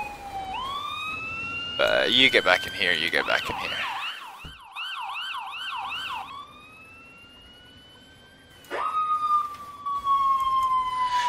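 A wailing electronic ambulance siren in the video game Emergency 4 rises and falls in a steady warble, with a voice speaking briefly over it and another siren tone sweeping in near the end.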